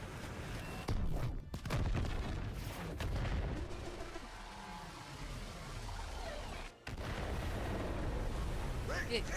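A Titan robot's chest laser charging and firing in Overwatch 2, with loud bursts and booming crackles, a sweeping whining energy sound in the middle, and a brief cutout before the roar resumes; voices talk over parts of it.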